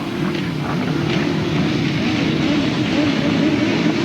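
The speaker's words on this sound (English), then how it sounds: "The revs rise, tapes flying, away they go." Grasstrack racing motorcycles at the start of a 1997 Brighton meeting, several engines droning loudly together in a continuous, rough roar without clear breaks.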